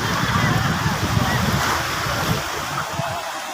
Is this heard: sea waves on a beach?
yes